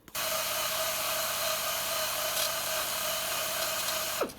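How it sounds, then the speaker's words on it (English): A carbide bit grinds the exhaust port of a Mazda RX7 rotary engine, a steady high-pitched whine held evenly for several seconds before spinning down at the end. "for this you need your long carbide bits to actually properly remove it"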